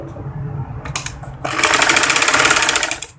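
A sewing machine stitches frock panel pieces with a half-inch seam margin: a brief burst, then a steady, close, rapid run of needle clatter lasting over a second.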